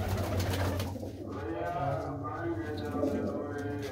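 Pigeons of assorted breeds, both males and females, coo steadily and close in a Punjab loft, with people talking nearby.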